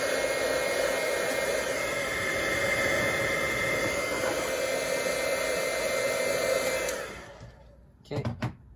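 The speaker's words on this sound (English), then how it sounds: "So now, get the old heat gun." A heat gun blows hot air in a steady, loud, close whoosh for about seven seconds, then cuts off, followed by a few brief handling clicks.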